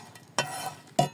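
Fourteen or fifteen green chilies hit a frying pan with two sharp bursts of sizzle and stirring clatter, close by and short, over quiet background with no talk.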